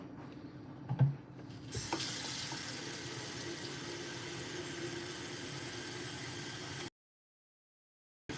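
Hot water running steadily from a tap into a pot while making a Khmer glutinous rice ball dessert, a continuous broadband hiss lasting several seconds after a brief clunk, then cutting off abruptly.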